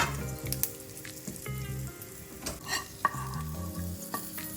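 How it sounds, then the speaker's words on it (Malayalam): Fried brinjal being stirred into salted, mashed curd for a brinjal curd curry, with soft scraping and mixing sounds in an uneven rhythm and a few brief clinks, close by with no talking. "ഉപ്പിട്ട് ഉടച്ച് വെച്ചിരിക്കുന്ന തൈരിലേക്ക് വഴുതനങ്ങ വറുത്ത് വെച്ചിരിക്കുന്നത് ചേർത്ത് ഇളക്കുകയാണ്"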